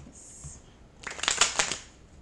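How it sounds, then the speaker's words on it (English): A deck of cards is shuffled in one quick, close riffle burst lasting about a second, after a quiet pause. "One more shuffle, guys."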